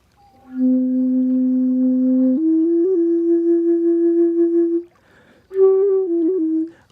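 A Native American flute plays dry, with no reverb: a long held low note that steps up slightly, a brief pause, then a shorter phrase, close and breathy, alone with no talking.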